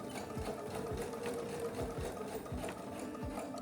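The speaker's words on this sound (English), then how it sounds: "I'm just going to stitch a few stitches past the edge of the end of the first partial stitch so that it's tacked together" A sewing machine stitches through quilt top fabric to tack a partial seam, a slow, evenly spaced thumping of single needle strokes, close and clear over a soft motor hum.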